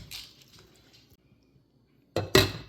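A spoon stirs tenderloin pieces in a slow cooker pot, with faint wet shuffling, a quiet pause, then a louder pair of clinks and scrapes against the pot near the end.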